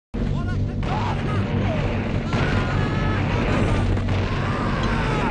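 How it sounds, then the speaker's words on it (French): TNT explosion in the first-person shooter Blood, a dense sustained roar of blasts and debris with brief bursts, heard under continuous talk. "Vous avez vu la manière que la TNT a de propulser les ennemis?"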